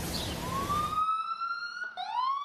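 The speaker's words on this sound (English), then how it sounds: "Out here in the streets, it's nothing but ambulance sirens." An emergency siren on New York City streets wails in a long rising tone, dips abruptly, then climbs again, loud and clear after a burst of broadband noise.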